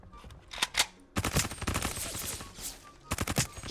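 Groza rifle firing in an online shooter game, rapid bursts of gunshots in quick succession with brief pauses between, loud and close.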